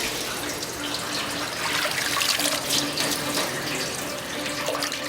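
Tap water runs steadily into a basin to change the soaking water for beef eye of round, a constant close splashing stream with no voices.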